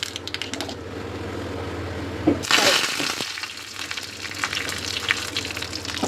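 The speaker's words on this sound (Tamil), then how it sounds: "ஒரு வாண்டியில் எண்ணெய் காய வச்சுட்டு கடுகு உளுத்த பருப்பு போட்டு தாளிச்சிக்கலாம்" Mustard seeds and urad dal crackle and sizzle loudly in hot oil in a pan, a sudden burst of popping that settles into steady close frying.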